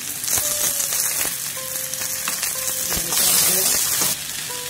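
Capsicum frying in a little oil in a pan, a loud, close crackling sizzle with sharp pops and brief clinks, swelling briefly near the end.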